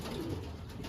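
A racing pigeon at a summer derby loft gives a short, soft, low coo, heard close and alone against faint background noise.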